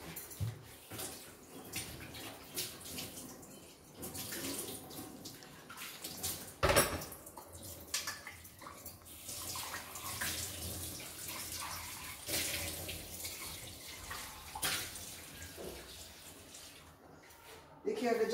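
Tap water runs and splashes while the jar of a Bosch TrueMixx Gold mixer grinder is rinsed in a kitchen sink. The steady faint rushing carries a few knocks and clatters, and someone talks over it.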